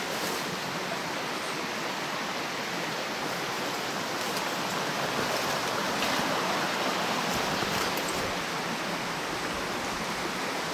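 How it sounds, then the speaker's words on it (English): Steady rushing water fills the scene, a continuous broadband wash of a river flowing close by alongside the Gunflint & Lake Superior Railroad line, with no voices over it. "you see the river running right here beside us."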